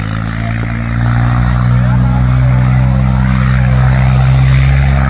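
Heavy tractor engine at a tractor pulling competition on a large open ground, a steady loud low drone with strong harmonics that swells after the first second and holds, with some faint crowd or voice sounds mixed in.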